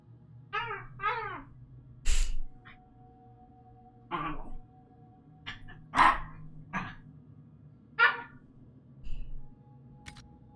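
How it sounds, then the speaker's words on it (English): A dog barks indoors in a scattered series of short, moderately loud yips and woofs with quiet gaps between them, over a faint low background hum. "I love when he barks on the floor."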